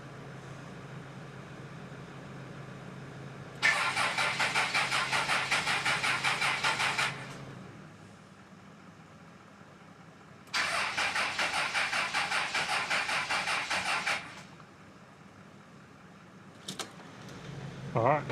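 A Toyota 80 Series engine cranks but fails to start, two long bursts of steady, rapid starter-motor churning of a few seconds each, separated by a quiet pause, with a faint click near the end.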